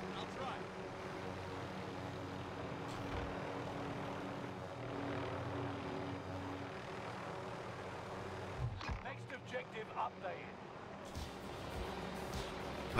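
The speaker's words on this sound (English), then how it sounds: "Landing chopper, landing chopper, landing chopper, landing chopper." A helicopter drones steadily nearby as it flies and comes in to land, a continuous engine and rotor rumble that cuts off near the end, with people talking over it.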